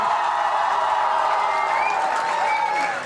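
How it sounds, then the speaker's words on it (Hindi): Comedy club crowd at a stand-up crowdwork show breaking into loud applause with cheers and whoops as a guest writer is invited on stage, a dense continuous roar of clapping with a few shouts rising over it. "जोरदार तालियां बजानी शुरू करिए, जोरदार तालियां बजानी शुरू करिए"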